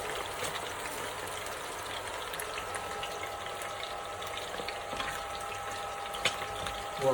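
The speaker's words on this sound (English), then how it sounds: "It's bubbling up, and you can see how crunchy it's going" Steady sizzling and bubbling from a mussel omelette frying in a pan, a continuous crackly hiss with small pops, fairly quiet and close, no talking.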